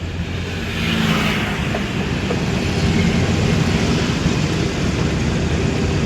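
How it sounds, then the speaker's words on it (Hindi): A car engine lugs in too high a gear as its speed drops, producing a loud, steady low drone from inside the car with no talking. "स्पीड डाउन हो गई, गियर ज़्यादा हो गया आपका गियर, इसलिए गाड़ी झटके लेने लगी"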